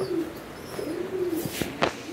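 Healthy pigeons in hot weather, feeding their squabs, give soft rolling coos close by, followed by a few short sharp clicks or taps near the end.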